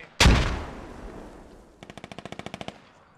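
SAW machine gun fire in a multiplayer military shooter game, a sharp loud blast followed by a fading tail, then a rapid evenly spaced burst of about a dozen shots.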